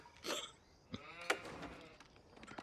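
Sheep bleat in the real-time strategy game Age of Empires IV, a few short wavering calls at moderate level over faint game ambience, with no talk over them.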